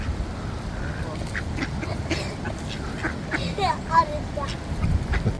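Ducks being fed at Baddesley Clinton estate give scattered quacks over several seconds, some nearer and louder, against outdoor background noise with a person talking.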